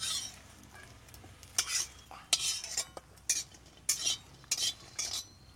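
Lentil dumplings (bori) fry in a pan and get stirred, a metal spatula scraping and clinking in bursts over a faint low sizzle.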